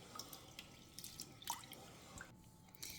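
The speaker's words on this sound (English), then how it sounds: "And then you're just going to wash it" Rice being washed in water in the kitchen for saffron rice, heard as faint, scattered drips and small splashes of water, quiet and close with no talking.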